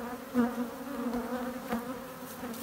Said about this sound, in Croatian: Evo vidite koliko je tu sad pčela izašlo.